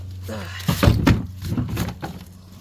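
A garden shed door swings open with a couple of dull thunks and wooden knocks, close and moderately loud, as the door is moved amid some brief handling noise.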